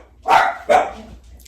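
Neighboring dogs bark twice in quick succession outdoors, two sharp loud barks close together, then quiet.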